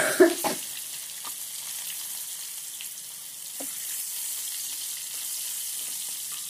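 Finely chopped onion dropped into hot oil in a pan gives a sharp initial splash and crackle, then settles into a steady, bright sizzle with a few soft stirring clicks, close and continuous without speech.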